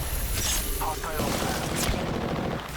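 Gunfire in the Apex Legends video game: rapid bursts of shots over a dense, noisy battle mix, with a voice speaking over the shooting.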